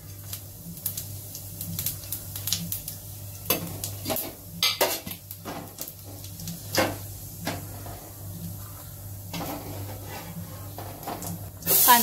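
Cumin seeds sizzle in hot oil left over from frying for a Marathi cashew spinach masala, with a steady low crackle, low hum and repeated close spoon clinks and scrapes against the pan.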